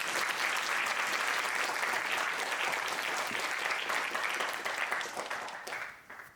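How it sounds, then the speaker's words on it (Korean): A lecture audience at a university applauds in welcome, a full, steady burst of many hands clapping that thins and fades out near the end. "일단은 환영의 박수 소리가 너무 약해."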